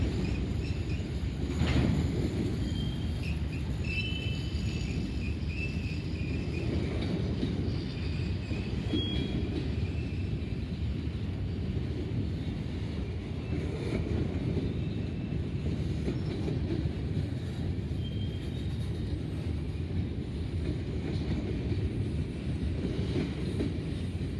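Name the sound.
long slow freight train passing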